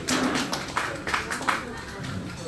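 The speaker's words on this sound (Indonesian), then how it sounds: "kita langsung aja persilakan tepuk tangan yang terakhir dulu dong" An audience claps for Kanda Wulan Rudi Basuki at an HIPMI Central Java gathering, a short burst of scattered, uneven hand claps close by, fading slightly toward the end.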